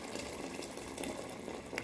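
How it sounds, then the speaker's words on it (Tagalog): Water is poured into a cooking pot of chicken stew with tomato paste and black lemon, making a faint, steady, gushing stream heard on its own. "Lalagyan na natin siya ngayon ng tubig."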